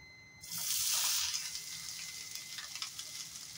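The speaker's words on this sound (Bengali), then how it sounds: "এইটুকু তেলের মধ্যেই আমি ফুলকপি আর আলুটা ফ্রাই করে নেব" Cauliflower and potato hit a small amount of hot oil, giving a sudden burst of loud sizzling that settles into a steady, softer frying hiss with light crackles, heard close with no speech.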